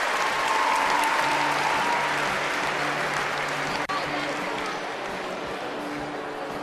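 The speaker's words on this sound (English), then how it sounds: "Applause from teammates on the sidelines." Teammates on the sidelines of a 2019 Universiade women's artistic gymnastics all-around event clap for a gymnast after her dismount, a steady wash of applause mixed with distant arena crowd noise that fades slightly toward the end.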